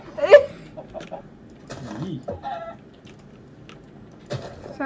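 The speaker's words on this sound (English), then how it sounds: "Sorry, I'm just killing some chicken." Chickens cluck and squawk in Minecraft as they are killed, several short, scattered bird calls over a few seconds with a voice talking between them.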